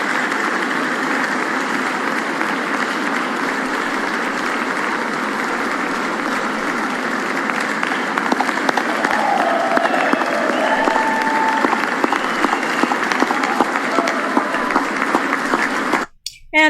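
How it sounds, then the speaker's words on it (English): A large audience at a political rally or speech applauds loudly and steadily, sustained clapping with some crowd noise that cuts off abruptly near the end. "And everybody clapped except the Democrats."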